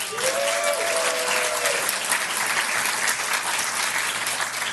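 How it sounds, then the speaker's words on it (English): An audience at a city's annual State of the City address applauds steadily, a full wash of clapping that stays even from start to finish, with a brief voice sounding over it early on. "I can assure you the City Council will never applaud you like that."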